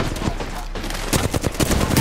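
In a video game, a grenade goes off amid a rapid, dense string of blasts and gunfire-like cracks that grow louder and more clustered toward the end.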